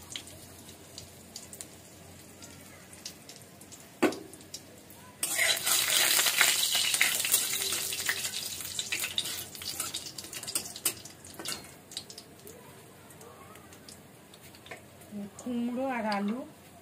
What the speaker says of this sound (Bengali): তেলের ওপরে শুকনো ঝাল, তেজপাতা, 5 ফোঁটন একসাথে ফোড়ন দিবে।